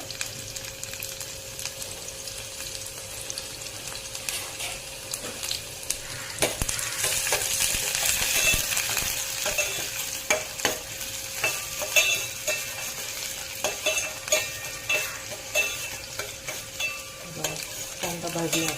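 Onion stirred and frying in a pan for a Goan-style prawn curry, a constant close sizzle with repeated scraping and clinking of the spoon, no talk.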